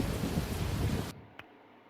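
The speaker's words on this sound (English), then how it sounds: "Lightning and heavy rain." Heavy rain and thunder in the Roblox storm-chasing game Twisted, a dense roaring wash of rain that cuts off abruptly partway through, followed by a brief sharp crack and then near silence.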